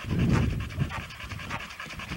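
A dog at a kennel yard pants heavily and rapidly up close, rhythmic breathy huffs continuing through the short stretch.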